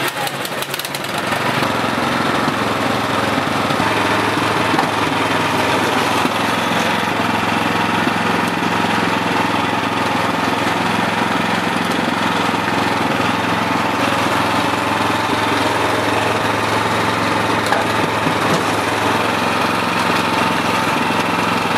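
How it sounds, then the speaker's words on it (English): A snowblower engine starts and then runs at a loud, steady, rough chugging idle for the whole stretch, up close and alone with no talk. "I'm going to actually start it so we can see it work in action."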